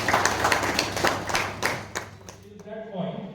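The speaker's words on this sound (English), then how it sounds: "A big round of applause to all of you also." Scattered clapping from an audience fades out after a few seconds, with a person talking over it near the end.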